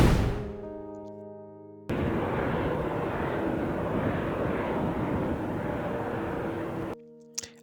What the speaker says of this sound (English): As the engines roared to life for the third time